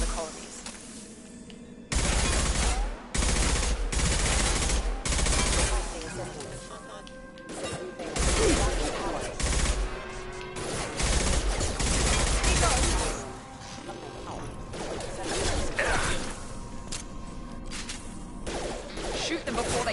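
Rapid bursts of gunfire in the video game Mass Effect 2, loud clustered volleys and impacts starting and stopping over a combat scene, with voices speaking between and under the shots.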